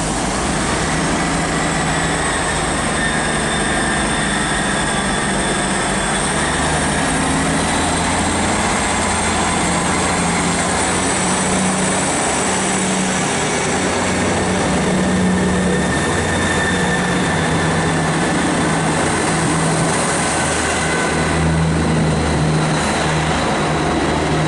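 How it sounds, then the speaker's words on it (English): The 12:25 East Midlands diesel service from Norwich to Liverpool Lime Street, with unit 158864 at the rear, pulls out of Stockport station with a loud, steady engine drone and rumble that holds for the whole stretch. "departing now is the 12:25 East Midlands train service to Liverpool Lime Street from Norwich"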